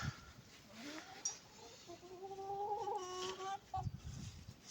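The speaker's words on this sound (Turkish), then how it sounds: "Bu horozum." A rooster clucks and calls in drawn-out, wavering notes, fairly close, with some rustling and low background noise.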